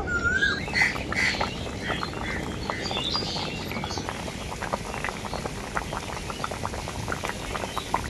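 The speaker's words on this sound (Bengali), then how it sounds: "আবারও আমি ঝোলটাকে কিছুক্ষণের জন্য ফুটিয়ে নেব।" Curry broth with fried fish roe, raw jackfruit and tomato bubbling in a pan, a steady close burble of popping bubbles running throughout at moderate level, with no voices.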